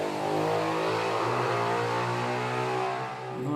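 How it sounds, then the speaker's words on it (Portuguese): A motorcycle roars past on a noisy city street in Rio, a loud, steady engine drone that swells close by and then fades slightly as it moves on. "Inferno, uma praga de uma moto passando aqui."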